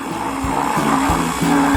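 A kitchen blender whirs loudly while crushing strawberries for a cocktail, its motor pitch dipping and surging in short cycles as the load shifts.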